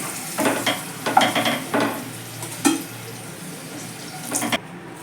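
Bay leaves and whole garam masala tossed into hot mustard oil, crackling in short bursts of sizzle and stirring scrapes over a low steady hiss, close by with no talk.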